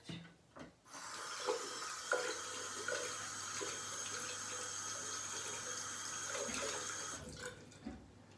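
Running tap water pours steadily into a sink for several seconds, close and moderately loud, after a few clunks at the start, then cuts off near the end.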